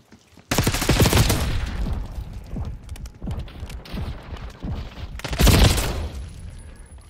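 Bursts of rapid automatic gunfire in the video game Black Ops 6, played on a PS5 Pro: a loud sustained volley, scattered shots in between, then another heavy burst near the end.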